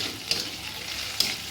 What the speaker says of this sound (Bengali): এবার একটু পেঁয়াজটাকে হালকা লাল করে ভেজে আসছি।